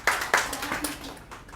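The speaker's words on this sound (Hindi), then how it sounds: "तो मैं चाहता हूं कि बेहतरीन शुरुआत कराने के लिए ज़ोरदार तालियां हों भैया के लिए।" A few scattered handclaps ring out from the audience at a mushaira poetry gathering. The claps are brief, sharp and uneven, quick and fairly close, then trail off into a quieter room.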